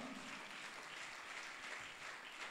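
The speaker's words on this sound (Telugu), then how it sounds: "ఒకసారి గట్టిగా చప్పట్లు కొడదాం" Congregation at a church mass on National Youth Sunday clapping together, a steady dense wash of applause throughout, fairly distant and quiet.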